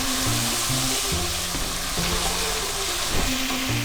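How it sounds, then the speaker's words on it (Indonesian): Carrots stir-fry in a hot pan, giving a steady, loud sizzle with light scraping and stirring throughout, close up and continuous. "wortelnya kita masukkan. Kita tumis dulu sampai dia matang."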